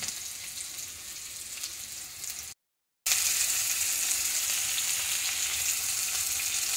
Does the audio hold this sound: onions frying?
yes